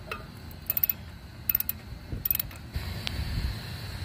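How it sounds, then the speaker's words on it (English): Ratchet clicking in three short bursts while loosening or tightening bolts under a 2002-2006 Nissan Altima during a passenger-side axle replacement, close and fairly quiet, with shop background noise and a brief metallic clink. "Put the ratchet on there."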